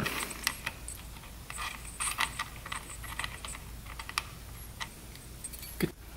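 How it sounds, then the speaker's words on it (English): Scattered metallic clicks and ratcheting ticks from tightening a nut with a torque wrench on a two-stroke race quad's clutch hub, close and fairly quiet, irregular in rhythm, with no talk. "Nut is torqued"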